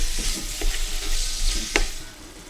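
Extra lean ground beef frying in a pan while being stirred, a continuous close sizzle broken by scraping strokes and a sharp utensil knock near the end, with no talking.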